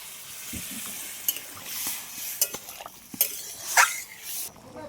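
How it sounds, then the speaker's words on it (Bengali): Greens and potato cooking in a pan sizzle while water is poured in and the mix is stirred, with scattered clinks and scrapes of a utensil against the pot, close and without voices. "শাকটা একটু কমে এলে এবার জল দিয়ে দিচ্ছি।"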